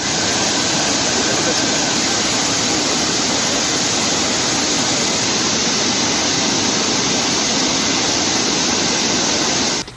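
Flood water released from the Amaravathi dam at about 16,000 cubic feet per second roars in a steady, loud, dense rush that fills the whole ten seconds and does not let up.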